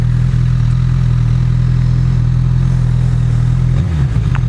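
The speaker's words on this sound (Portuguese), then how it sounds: "o escape original tá com um barulhão muito louco" A 2014 Honda CBR 1000 RR Fireblade with its original exhaust idles loud and close, a steady deep engine drone with a short revving blip near the end.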